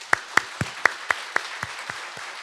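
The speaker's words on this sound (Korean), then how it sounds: "우리 영광의 박수 한번 하십시다." Congregation at a Korean church service clapping in unison to give glory: about ten sharp, evenly spaced claps in a quick steady rhythm, fading slightly toward the end.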